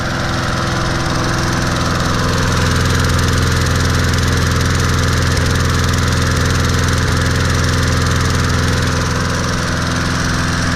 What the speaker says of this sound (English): I don't think it runs quite as well as it did with that other carburetor leaking.